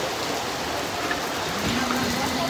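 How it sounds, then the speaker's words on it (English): Heavy rain pours down steadily in Indonesia as a dense, continuous hiss of water hitting surfaces, loud and unbroken throughout, with faint background sounds beneath. "Wow, so heavy rainy."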